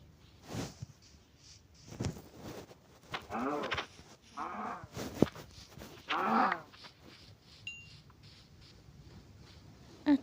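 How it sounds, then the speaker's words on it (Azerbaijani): A cow in the Minecraft video game gives several short low moos at irregular intervals, moderately loud and close, separated by quiet gaps and soft game sounds, with no talking. "Hələlik bu inəyi ovlayaq."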